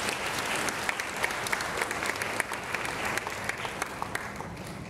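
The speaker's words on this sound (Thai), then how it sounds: "ให้เราปรบมือต้อนรับท่าน" A church congregation claps steadily to welcome a speaker, a dense wash of applause with sharper individual claps standing out, continuing evenly for several seconds.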